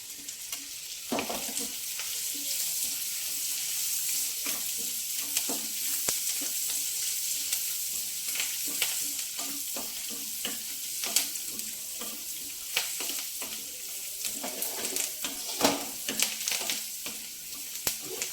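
Onion frying in oil with curry leaves, garlic and ginger in a pan for an okra and egg dish, a steady close sizzle broken by intermittent scraping and clinking as the mixture is stirred.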